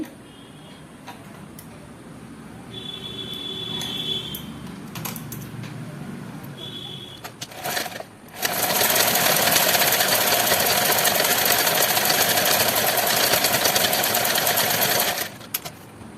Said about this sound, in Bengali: আমি বেলটা সেলাই করে নিচ্ছি প্রথমে নিচের অংশটা সেলাই করে নিচ্ছি